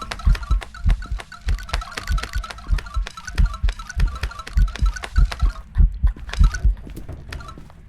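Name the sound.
heartbeat sound effect in Phasmophobia video game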